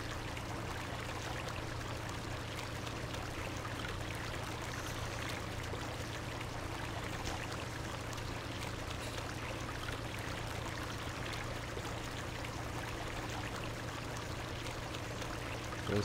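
In Farming Simulator 17, water pours steadily into a tank as a continuous, even rushing stream lasting the whole stretch, with no talking.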